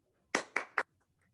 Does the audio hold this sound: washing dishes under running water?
no